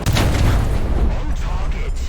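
A tank cannon firing in the War Thunder video game, a heavy, loud booming roar that fills the entire short moment up close.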